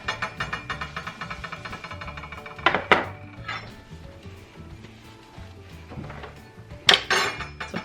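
Metal kitchen tools and a soup pot clatter and clink while being handled and put away, with a couple of sharper bangs standing out over a steady low hum.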